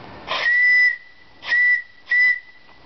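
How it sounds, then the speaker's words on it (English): A loud, shrill steam whistle blows three times, one longer blast followed by two shorter ones, with a faint hiss between. "Gee, that whistle's loud."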